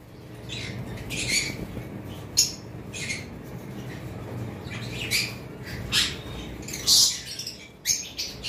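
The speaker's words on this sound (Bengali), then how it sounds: "এখন কিন্তু কোকাটেল আমরা একটু কম প্রাইসে ছাড়তেছি" Pied cockatiels kept in cages for sale give repeated sharp squawks and chirps, several bursts scattered over a low background hum, fairly close and moderately loud.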